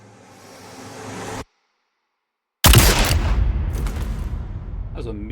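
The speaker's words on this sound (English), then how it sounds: "That was a meaty gunshot." A single heavy gunshot cracks in Destiny 2 after a moment of total silence, a sudden loud blast that rings out into a long rumbling decay with some noise trailing off.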